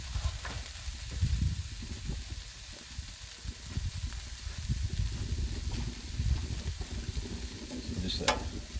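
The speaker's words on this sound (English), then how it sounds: "Go ahead and drop some eggs down and get this stuff all mixed up inside." Eggs sizzle and crackle steadily on a Blackstone griddle for a pork breakfast quesadilla, a close, constant frying hiss with faint scraping and no talk.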